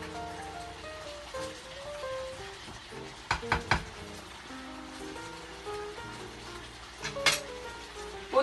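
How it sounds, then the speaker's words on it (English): Chicken being stirred in a pan with salt and sugar, a soft scraping, sizzling bed with a few sharp spoon knocks against the pan near the middle and end, close and moderately quiet. "After adding salt and sugar, mix once again"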